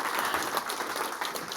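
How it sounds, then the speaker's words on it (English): A brief, lively burst of audience clapping for the speakers at a panel event, many hands at once, fairly close and uniform in loudness. "give all the speakers a big round of applause"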